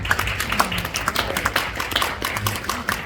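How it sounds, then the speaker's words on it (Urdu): An audience at a charity event claps, a light, scattered patter of hands that runs steadily for a few seconds at moderate distance, without cheering. "آپ تالی بجاتے ہیں"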